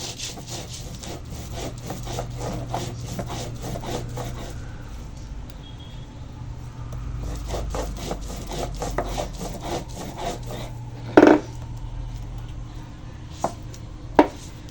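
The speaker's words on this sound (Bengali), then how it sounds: "এখন আদা জিরে আর ধনে একসঙ্গে বেটে নেবো" Ginger, cumin and coriander are ground into a paste for a fish curry with steady back-and-forth rubbing strokes, close and continuous. The strokes pause for a moment, then resume, and a couple of sharp knocks come near the end.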